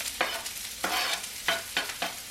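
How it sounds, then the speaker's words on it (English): Onions sizzle in a pot for chicken noodle soup, close, with a few quick stirring scrapes giving short bursts of sound over a low frying hiss. "I'm gonna first put the onions."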